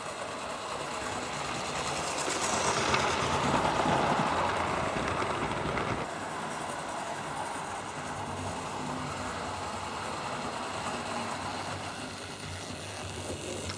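A Hornby Hogwarts Castle model locomotive runs at speed along the track with a steady whirring rumble, close and constant, swelling slightly early on and then holding an even pace.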